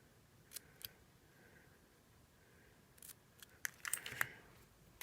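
Scissors trim paper in a few short, crisp snips, quiet and close, with a small cluster of quick cuts near the end and no talking.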